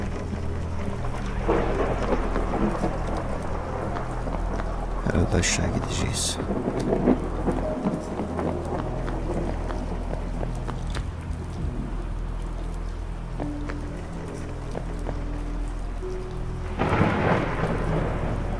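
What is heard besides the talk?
thunderstorm and rain in horror video game Forest Asylum 2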